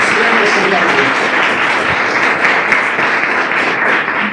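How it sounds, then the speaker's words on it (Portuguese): A church congregation claps their hands in praise during a Sunday service, a loud, dense, continuous wash of applause filling the room. "Louve ao Senhor com suas palmas"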